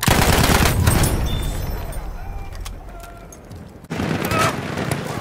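Machine gun fire in the World War I shooter Battlefield 1 at a factory: sustained, loud automatic bursts with ambient battle noise. The firing eases off midway, then a fresh heavy burst starts abruptly near the end.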